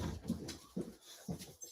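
A dog whimpers indoors in short, soft, high whines, three or four brief cries spaced about half a second apart, fairly quiet and close.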